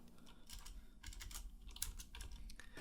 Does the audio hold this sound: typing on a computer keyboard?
yes